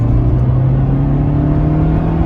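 The ZC engine of a 1991 Honda CR-X Si pulls under acceleration with a steady droning hum and a rising engine pitch, heard close from inside the car.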